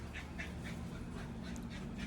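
A dog pants rapidly in a regular rhythm close by, with faint whimpering mixed in, over a low steady background hum and no talking.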